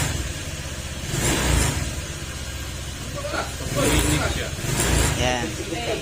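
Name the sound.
Honda Click 125 scooter engine revving as throttle is pressed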